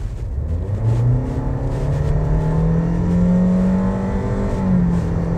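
Car fitted with a Tury Fast throttle delay reducer accelerating hard, a loud close engine drone whose pitch climbs steadily through the gears with a continuous rumble underneath.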